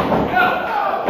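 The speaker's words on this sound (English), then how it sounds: "And Murmur slams Amir Heathen on Alexander Cole." A professional wrestler is slammed onto the ring mat during a 2022 pro wrestling TV match, a single heavy thud under excited commentary and crowd noise.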